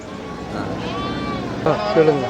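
Goats bleat up close amid a busy crowd of talking voices at the Melapalayam goat market, with a couple of sharp, wavering calls near the end.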